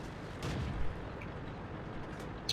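Tank cannon shots in World of Tanks, from a Nashorn tank destroyer firing from cover at a fast, low-profile tank: a muffled boom near the start over steady battle noise, with a sharper crack near the end.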